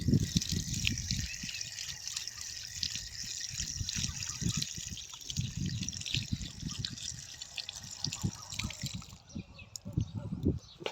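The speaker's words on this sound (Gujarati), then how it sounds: "નળ ચાલુ કરી દઈએ" A tap runs to wash curry leaves, producing a continuous splashing, trickling stream nearby with small drips and gushes shifting in level, and faint voices now and then.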